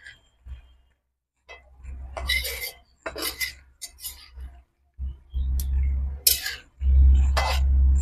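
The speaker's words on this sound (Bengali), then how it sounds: "চলো এটা ভালো করে আমি নেড়ে নিই।" A spoon scrapes and clatters around a pot of chicken curry after water goes in, giving a run of irregular metallic knocks and scrapes that swell louder toward the end, with short silent gaps between bursts.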